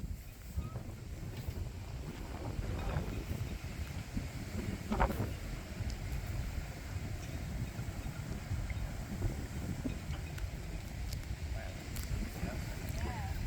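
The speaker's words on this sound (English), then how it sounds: "It's windy!" Strong wind buffets the microphone at a canal narrowboat mooring with a continuous low rumble and gusty roar, while faint voices and water sounds come and go underneath.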